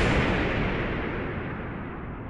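A loud, deep explosion sound effect representing the Big Bang, a single heavy rumbling blast that fades slowly.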